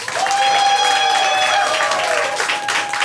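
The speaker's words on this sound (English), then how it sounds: "If you thought John was the winner of this battle, clap your hands." Applause from a comedy roast battle audience in Hartford voting for a winner, a dense continuous patter of clapping, with a high whistle or cheer riding on top before it fades.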